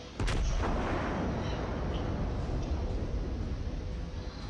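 Iowa battleship main guns firing in World of Warships, a sudden heavy booming salvo followed by a long rumbling roar that slowly fades over several seconds.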